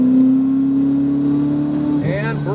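Ferrari 488 GTB engine under heavy throttle on a track, a loud sustained drone holding steady pitch before a quick rise and shift near the end, with a driver's voice talking over it.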